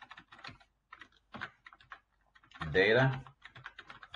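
Typing of VBA code on a computer keyboard, rapid key clicks in short bursts running under steady spoken instruction, with a louder dense patch of keystrokes midway.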